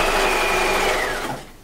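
Sewing machine stitching along the edge of skirt fabric, with a fast, steady, close whirring hum that slows and winds down to a stop.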